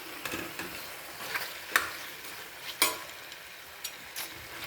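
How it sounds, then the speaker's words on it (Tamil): Dry macaroni tipped into a pan and stirred, giving faint scraping and light sizzle with a few sharp clicks and taps of the spoon against the pan, quiet and close, no voices. "இப்போ மக்ரோனி போட்டுக்கலாம்"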